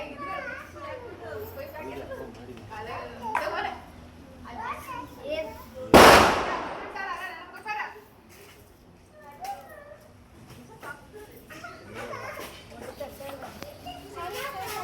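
A single sharp firecracker bang bursts loudly midway, while children chatter and call out before and after it.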